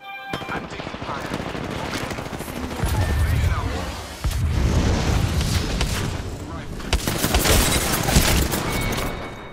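Rapid gunfire rattles through a battle royale game match, dense bursts and booming shots piling up loud and close for most of the stretch, with a voice talking over parts of it.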